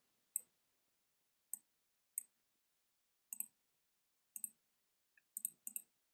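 A computer mouse gives a string of quiet, sharp clicks, several coming in quick double-click pairs with short pauses between, while text is edited in a graphic design program. The clicks are close and stand alone with no talk.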